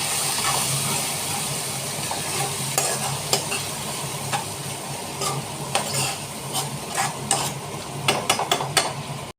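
Ginger, chilli and cumin pastes stirred and fried in a pan for a thin fish curry, a steady close sizzle with repeated scraping clicks of the spoon growing busier toward the end, no voices.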